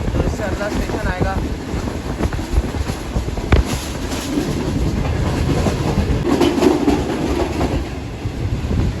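The upgraded Shalimar Express passenger train, riding in AC parlour class between Lahore and Karachi, rolls steadily along the rails with rhythmic clickety-clack and a rumbling carriage drone, plus wind noise buffeting the microphone and faint voices in the background.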